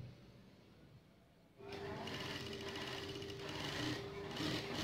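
A sewing machine stitches around the neckline of a batik tunic, starting after a quiet pause and then running steadily and close up, with a tone that rises slightly toward the end.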